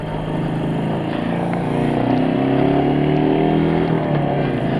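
Royal Enfield Meteor 350 motorcycle, a 349cc single, steadily engine-droning as it takes a sharp corner, the tone rising slightly mid-turn, loud and close with no talk.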